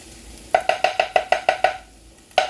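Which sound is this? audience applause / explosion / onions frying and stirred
onions frying and stirred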